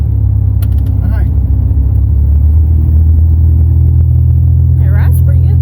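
A GMC OBS pickup truck with a 4.3 engine and slightly square tires drives along, heard from inside as a loud, steady low rumble of engine and road noise, with brief voices talking over it.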